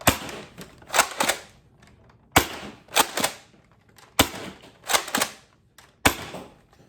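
An Adventure Force Conquest Pro dart blaster is slam fired in quick bursts, each volley a cluster of sharp, loud clacking shots with short gaps between groups, close by and alone.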